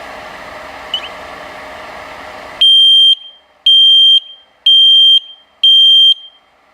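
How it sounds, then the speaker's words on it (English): A buzzer powered at 24 volts sounds four loud, piercing beeps in an even on-off rhythm, each lasting about half a second, after a quieter stretch of background noise. "Kita akan tes seberapa kencang buzzer ini."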